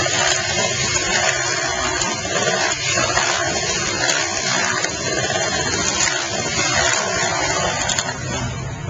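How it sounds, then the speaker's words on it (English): Electric whisk blending strawberry puree into cream for a pavlova in a hotel kitchen, with a steady, dense whirring and churning that holds evenly throughout without pause. "And then we're literally just going to whisk this together"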